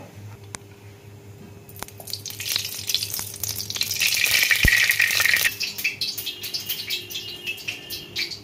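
Nigella seeds and green chillies hit hot oil in a pan, setting off a steady close sizzle that swells loudly for a few seconds midway, with crackles and light spattering before settling back.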